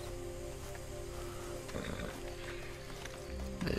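A horse in the video game Red Dead Redemption 2 lets out a brief neigh amid game ambience and hoof sounds, fairly faint, with a louder burst near the end.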